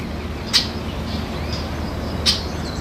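A Steller's jay gives two sharp, short calls about two seconds apart, moderately distant, over steady outdoor background noise in a national park forest.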